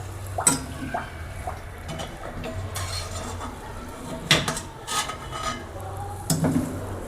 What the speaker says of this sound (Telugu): స్పూన్తో పాకంలోకి ఇట్లా గట్టిగా డిప్ చేయండి.